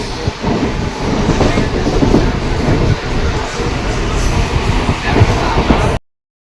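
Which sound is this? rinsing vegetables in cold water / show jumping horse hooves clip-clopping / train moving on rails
train moving on rails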